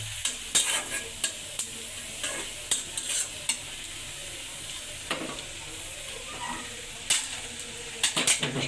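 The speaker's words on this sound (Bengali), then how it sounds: "পেঁয়াজ ভাজা হয়ে গেছে এখন কলিজার ভিতরে দিয়ে দেবে" Liver being stir-fried with fried onions in a pan, a steady hissing sizzle broken by sharp scrapes and clacks of a utensil against the pan, with close, irregular stirring strokes throughout.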